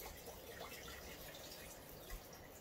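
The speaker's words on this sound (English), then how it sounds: "Now I'm going to add some water to cover" Water poured into a Thermomix TM6 jug to cover the blade, a steady close trickle and splash running throughout without talk.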